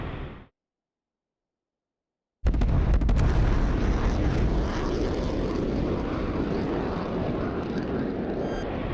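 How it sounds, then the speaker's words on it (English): An F-15E Strike Eagle in the DCS combat flight simulator fires Fox 3 missiles. After a brief silence, a sudden loud launch whoosh erupts and settles into a sustained roaring rush that continues to the end. "So we got 2 Fox 3s out on 2 separate bandits."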